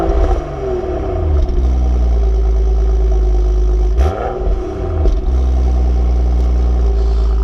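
A stock BMW F30 335i engine idles steadily with a deep low drone, briefly blipping the throttle partway through for a short rev before settling back to a smooth idle, with no one talking.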